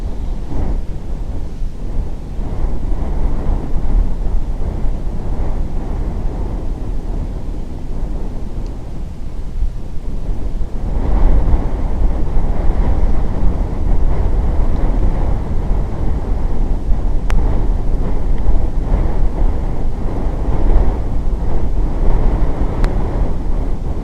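Strong wind buffeting the microphone outdoors near a hog, a loud continuous roar and rumble that surges and gusts throughout.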